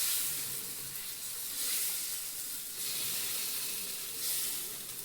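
Pesarattu batter, a green moong dal crepe batter, sizzles steadily on a hot pan, a loud continuous frying hiss with gentle swells, close and alone without voices.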